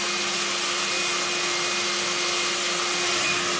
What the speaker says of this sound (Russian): вы просто нажимаете кнопку, и фен сам все крутит